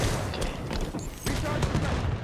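Rapid rifle fire crackles through a Halo 5: Guardians multiplayer Slayer match on Eden, bursts of shots stacking into a continuous fusillade with game noise beneath, lasting about two seconds.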